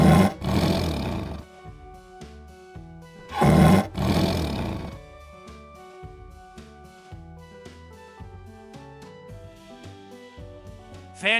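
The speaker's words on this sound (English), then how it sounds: "The fierce tiger is starting now." Cartoon tiger roars loudly twice in a row during an animal sports race, with bouncy music playing underneath and continuing alone between and after the roars.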